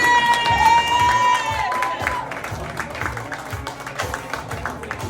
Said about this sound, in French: Commencez à applaudir l'excellente Adèle!